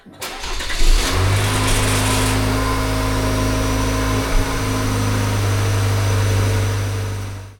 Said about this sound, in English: Run the engine for a few seconds to fill that new filter.